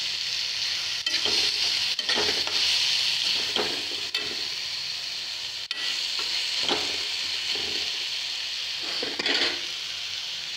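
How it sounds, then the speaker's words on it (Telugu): Broad bean seed curry sizzles steadily in a pan while a spoon stirs it, with repeated scraping strokes over the constant frying hiss, close and without talk. "కింద అడగంటకుండా కొంచెం కలుపుకుంటాము."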